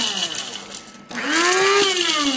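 Electric spice grinder whizzing spices for homemade Italian sausage: a loud, steady whine that cuts out briefly, then restarts and rises in pitch as the blades spin back up, close by.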